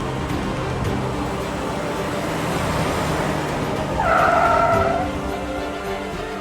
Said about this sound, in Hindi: भाई साहब क्या हुआ, गाड़ी क्यों रोक ली?